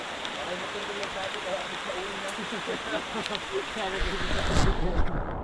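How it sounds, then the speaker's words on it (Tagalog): Steady rain falls on a farm field, a dense continuous hiss of drops on leaves and ground, close and fairly loud, with a faint voice speaking underneath and a heavier splash near the end. "Maghapon pong naulan."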